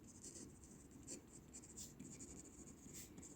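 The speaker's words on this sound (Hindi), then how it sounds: "तो इसको लिखते हैं एक बार" A pen scratches across paper in continuous, faint strokes, handwriting that goes on steadily with no speech.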